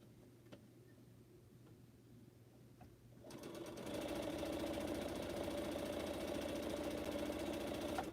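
A sewing machine stitches pineapple quilt blocks, running in a steady, fast mechanical hum with rapid ticking after a quiet start; the whirring continues close and loud, with no talk over it.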